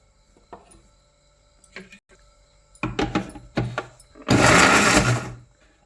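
A mixer grinder blends okra chutney in short pulses, ending in a louder sustained whir, with clicks and handling noises between bursts.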